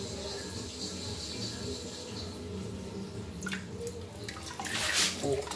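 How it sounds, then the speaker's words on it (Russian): Water runs steadily from a hygiene hose beside a toilet in a beach restroom in Turkey, a continuous hiss with a brief stronger spray near the end and no talk over it. "Вот этот шланчик, который открывает воду в унитазе."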